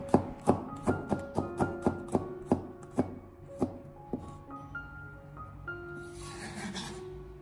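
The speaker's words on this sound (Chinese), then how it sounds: "准备几个大蒜子，把它改刀切成薄片" A knife slices garlic cloves thinly on a board, a run of crisp, evenly spaced chops that slows and softens toward the end, close and clear with no talk.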